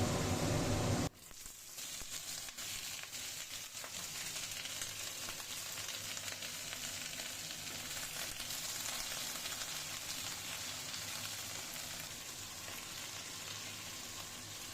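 Black cumin seeds fry in mustard oil with a steady, dense sizzle that holds close and loud, opening with a brief louder burst before settling into an even crackling hiss.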